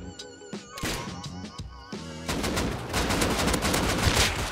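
Automatic AK rifle fire in the survival video game Rust, bursts of rapid shots ringing out close and loud, growing denser and more sustained in the second half.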